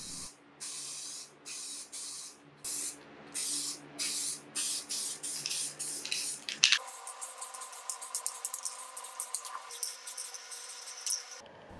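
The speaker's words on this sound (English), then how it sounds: "I just use a spray lacquer." Short bursts of aerosol spray lacquer hiss one after another in a steady rhythm, then turn into rapid, quicker puffs, applied to dresser pulls and legs.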